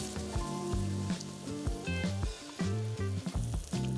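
Garlic and cream sizzling in a buttered pan, a continuous crackling fry heard under background music with no speech.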